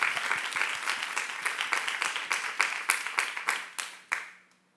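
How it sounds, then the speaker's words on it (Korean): Youth congregation applauding during a church sermon, a burst of fairly close clapping that settles into loose rhythmic claps and then thins out and stops near the end. "여러분이 우리 교단의 장래라고 믿는 사람만 박수하세요"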